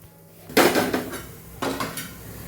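A metal plate is set down as a lid over a cooking pan of Kathiyavadi onion khariya. Two distinct clattering clanks land about a second apart, each ringing briefly before fading into a low background hum.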